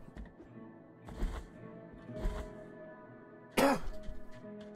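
A man coughs and clears his throat in short, close bursts, two muffled coughs a second apart followed by a sharper, louder hacking cough, in an otherwise quiet room with a faint background hum.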